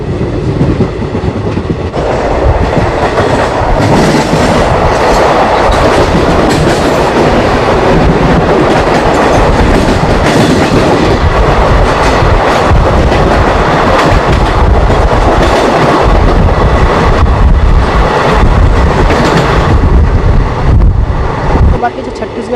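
Korba–Raipur local passenger train in Chhattisgarh pulling out of a station and running, with loud continuous rumble and rhythmic clickety-clack of wheels over rail joints, steady throughout, heard from onboard with some wind noise.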